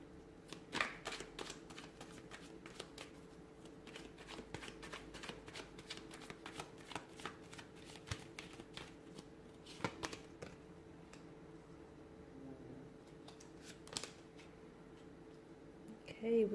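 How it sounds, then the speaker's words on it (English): Tarot cards are shuffled close by in quiet, quick riffling bursts and soft taps, repeating throughout in a hushed room. "give the cards a shuffle"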